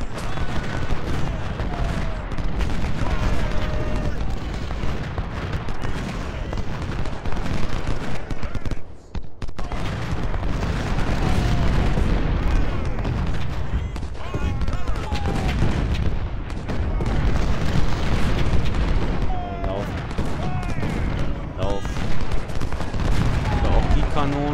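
Sustained volleys of rifle and artillery fire crackle and boom across a Civil War battlefield at Stones River in the strategy game Ultimate General: Civil War, loud and nearly continuous, with a brief lull midway before the firing resumes.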